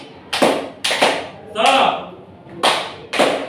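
A classroom of pupils claps together in a set rhythm, loud group bursts in pairs separated by short pauses, with a teacher's voice briefly speaking between them.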